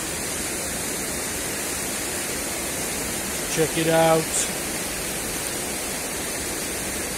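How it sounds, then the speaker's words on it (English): A river rushing steadily as a broad, constant wash of water noise, close and loud, while someone briefly speaks over it near the middle. "found this awesome river"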